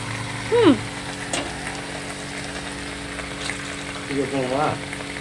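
Meat frying with spice masala in a pan, a low steady sizzle with a few soft clinks, while a voice briefly sounds twice over it.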